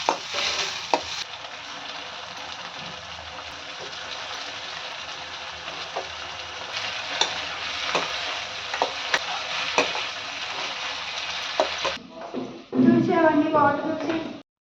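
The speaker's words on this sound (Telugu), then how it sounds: "సో ఇది ఫ్రై అవుతూ ఉంటుంది." Aloo gobi, potato and cauliflower, fries in a pan on the stove with a steady low sizzle and occasional stirring clicks, and a voice speaks near the end.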